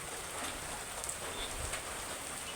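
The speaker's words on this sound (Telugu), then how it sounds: "ఫుల్ వర్షం" Steady rain pours down with a dense, even hiss and no other distinct sounds.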